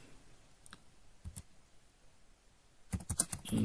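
Sparse, quiet clicks of code being typed on a computer keyboard, a few isolated keystrokes early on, then a quicker burst of taps near the end.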